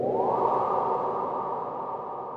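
A short synthesized sound effect in Ableton Live sweeps upward, then holds a bright, steady pitch that trails off into a long, smooth reverb tail. The sound is loud and close, with no other sounds and no voices.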